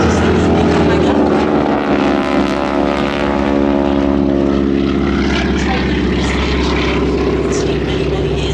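Propeller engines of a wingwalking display biplane at an air festival: loud, sustained droning roar with a steady throbbing hum and shifting pitch, close and continuous, a voice faintly present beneath.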